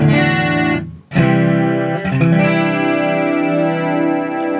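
Enya acoustic guitar strummed with its onboard chorus effect turned all the way up, bright sustained chords ringing with a shimmering, wavering tone, briefly muted once before ringing on.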